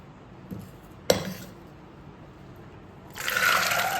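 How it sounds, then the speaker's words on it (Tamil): Soaking water pours in a steady splashing stream into a pressure cooker of peas for about a second near the end, after a couple of light knocks and clinks of the pot. "ஊற வச்ச தண்ணியோடையே ஊற்றிட்டேன்."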